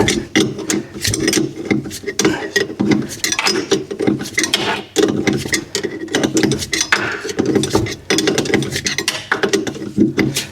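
Nuts being undone on a threaded part while stripping down a Mini 1275 GT, with the threaded part held by a flat on top of the thread. Close, irregular metallic scraping, rasping and ratcheting runs throughout, fairly loud and with no talk.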